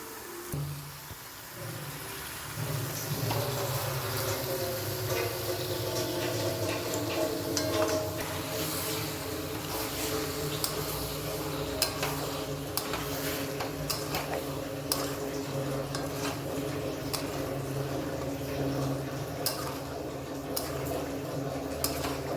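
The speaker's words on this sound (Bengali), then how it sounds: "এবারে মাংসটা দিয়ে দিচ্ছি, মাংসটা দিয়ে এবারে কষাবো" Marinated meat sautéing and being stirred in a covered pot, a steady close sizzle with small scraping and clinking sounds throughout, alone without talk.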